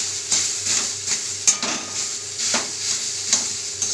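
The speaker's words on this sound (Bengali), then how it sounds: "ভালো করে নিম পাতাটাকে আলুর সঙ্গে ভালো করে ভেজে নেব" Neem leaves being fried together with mashed potato in a pan with only leftover oil, a soft continuous sizzle under regular scraping and tapping of a spatula against the pan, close and moderately loud.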